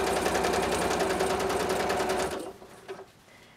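A sewing machine runs a fast, steady burst of stitching along a quilted vest hood seam at a 2.8 stitch length, loud and close, then slows and stops with a faint clunk.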